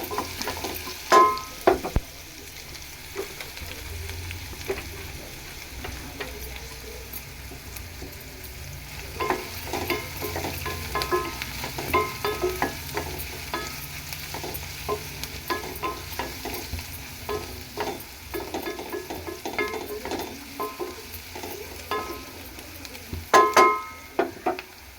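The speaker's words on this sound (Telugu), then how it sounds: "పచ్చిమిర్చి ముక్కలు, ఉల్లిపాయ ముక్కలు దూరగా వేయించుకోవాలి." Green chilli and onion pieces frying in a pan, a continuous close sizzle with steady stirring scrapes throughout and a few louder knocks of the spatula near the start and end.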